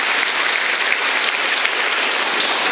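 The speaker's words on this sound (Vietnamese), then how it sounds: "Cho các bạn này một tràng pháo tay thật lớn này, là cảm ơn." A congregation at a Catholic priest's homily breaks into a big round of applause, a dense, steady wash of clapping throughout, loud and close with no voices over it.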